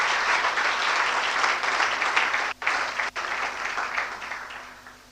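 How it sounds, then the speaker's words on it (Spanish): Applause from a church congregation during a service, dense clapping that holds steady and then slowly thins, with two brief dropouts near the middle and no talking over it. "Más fuerte el aplauso."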